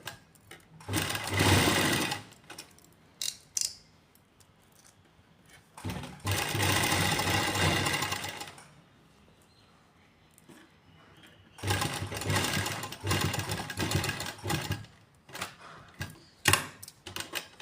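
A sewing machine runs in three long stitching bursts along a garment armhole, with the lining folded aside, each run lasting two to three seconds and separated by short pauses with faint handling clicks, close and loud with no talk.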